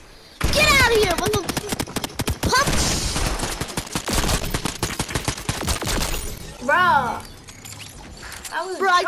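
Rapid bursts of lock-on pistol fire in the video game Fortnite, loud and close, crackling in quick volleys with players talking over much of the shooting.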